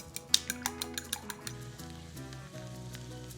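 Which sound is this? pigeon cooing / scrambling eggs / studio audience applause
scrambling eggs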